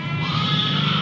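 A goat bleats once in a drawn-out, steady, nasal call on a livestock farm, close and fairly loud.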